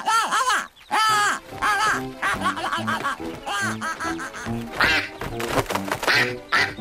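A duck call whistle in a children's cartoon sounds a rapid series of loud, nasal quacks, repeating in quick bursts close up.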